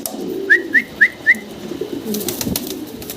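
Four quick, high bird calls come in a rapid even series at a pigeon market, close and clear over a low rumble of surroundings, then brief clatter.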